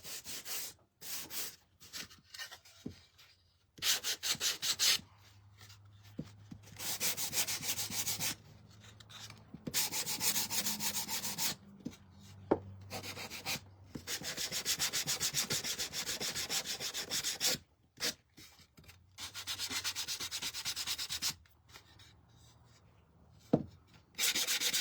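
Hand sanding on the wood of an anchor wall hanging, raising the grain: repeated bursts of close, dry rubbing strokes separated by short pauses, fairly loud and with no talking.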